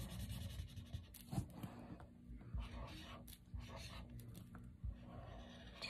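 A pen draws bubble letters on paper in close, quiet scratchy strokes, with short pauses and small rustles between the lines.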